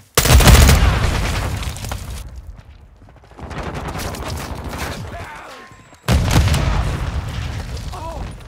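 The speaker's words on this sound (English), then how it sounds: "Grenade!" Grenade blasts in Call of Duty Modern Warfare 2, a loud booming burst at the start and another sharp blast later, with rumbling gunfire and battle noise in between.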